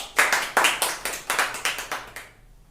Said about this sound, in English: put your hand together and clap for our respected teacher, Mr. Vikram sir.